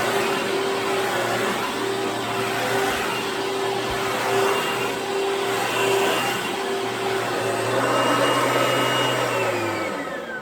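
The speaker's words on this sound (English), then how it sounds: "And then you want to turn off the vacuum. Then you want to turn it right back on." An Oreck Magnesium vacuum cleaner runs with a loud, steady motor whine and airflow roar, close up, holding nearly constant for about ten seconds before the pitch begins to drop near the end.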